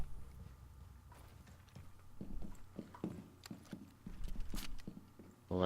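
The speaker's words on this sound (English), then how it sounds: "Well, I hear footsteps around me." Footsteps in the tactical shooter game Siege sound as a string of quiet, close, irregular thuds and taps, with a sharper burst of noise near the end.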